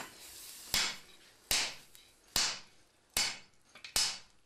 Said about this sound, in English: The last folds have to be flattened with a mechanical hammer.